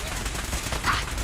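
Rapid gunfire in the Fallout 4 video game forms a dense, continuous clatter of shots that fills the whole moment, loud and close, with a faint voice mixed under the din.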